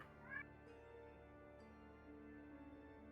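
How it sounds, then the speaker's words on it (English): A cat yowls once, faint and distant, in a quiet room under a low electrical hum. Its short rising cry is followed by softer, drawn-out murmurs. "As a cat screams in the background"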